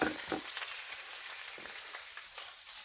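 Bacon browning in a pan gives a steady, bright sizzle with faint crackles and pops, continuous and fairly close, with no talk over it.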